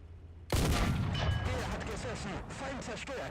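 Cannon fire in an ASCII-style roguelike game opens with a sudden heavy blast that rumbles on and fades slowly while a voice talks over it.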